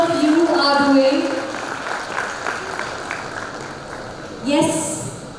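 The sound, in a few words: audience applause at a convention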